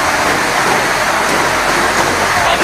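Heavy rain pours steadily during a cold lahar flood at Kali Lanang, a dense, even hiss of rainfall filling the whole span with no voices.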